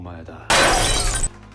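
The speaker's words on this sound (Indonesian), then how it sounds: "Tiba-tiba kaca ditembak." Glass shattering under gunfire in an action film: a sudden loud burst of breaking glass cuts in over a low musical score and crashes on for under a second before ending abruptly.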